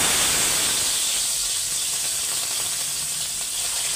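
Cabbage is sautéed in a hot pan, giving a loud, continuous close sizzling hiss that holds steady throughout with no talking.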